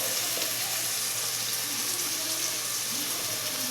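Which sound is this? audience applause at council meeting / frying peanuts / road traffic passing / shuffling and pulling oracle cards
frying peanuts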